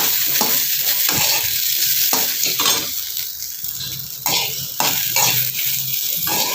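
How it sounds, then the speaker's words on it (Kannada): Okra (bendekaayi) frying in a pan, a close crackling sizzle broken by repeated scraping strokes of a spoon stirring against the metal, with light clatters between strokes and no voices. "ಅದು ಚೆನ್ನಾಗಿ ಫ್ರೈ ಆಗಬೇಕಿದು ಬೆಂಡೆಕಾಯಿ"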